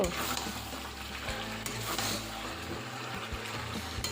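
Chicken sizzles steadily in its own rendered fat with no added oil, a continuous crackling fry with occasional stirring scrapes.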